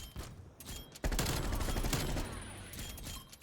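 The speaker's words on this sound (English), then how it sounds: "Finally, we've got one of my favorite assault rifles, the Groza, with a nice little spawn trap on Raid." Groza assault rifle firing in Black Ops Cold War on the Raid map, rapid loud bursts of automatic gunfire with dense overlapping shots, a brief pause early then sustained fire for the rest.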